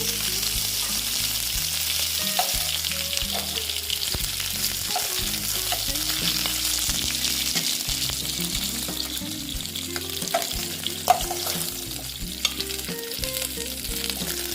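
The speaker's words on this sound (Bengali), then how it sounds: "মাছটা মনে হয় ভাজা হয়ে গেছে কারণ আমরা না একটু কড়া খাইব মাছ ভাজা" Shol (snakehead) fish frying in hot oil in a pan, a steady close sizzle and crackle running without a break throughout.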